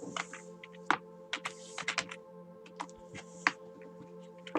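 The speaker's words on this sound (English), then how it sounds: "So maybe if I type Lynn," Typing on a computer keyboard in a quiet room: irregular clicks and taps, some keys struck harder than others, close and alone over a steady faint electronic hum.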